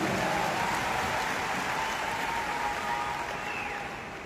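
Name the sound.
audience applause at business event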